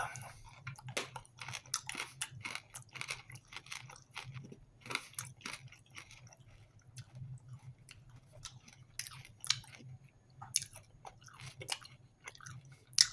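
Close, quiet crunching and clicking of honey lemon hard candy being chewed, irregular bites and cracks repeating steadily over a low background hum, with no talking.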